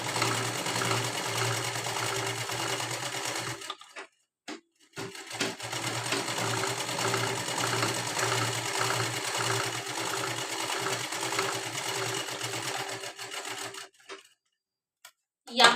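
A sewing machine stitches an unlined princess-cut blouse in long, steady, whirring runs. Two brief pauses break the runs, and the sound is close and fairly loud throughout.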